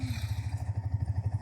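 Yamaha XSR 155 motorcycle engine idling just after starting, a steady low rhythmic throb with even pulses, close by and alone.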